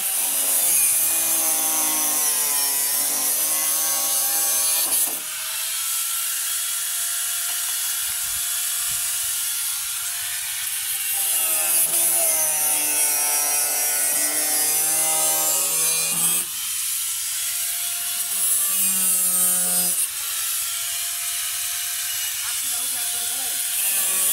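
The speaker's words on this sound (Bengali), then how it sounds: "ওকে ও বাঁশ কাটতেছি। এখন হবে এই সব নাট কাটা।" A hand saw cuts through bamboo for a floating boat made from oil barrels, giving loud rhythmic rasping strokes in long bursts separated by brief pauses, close by, with no talk.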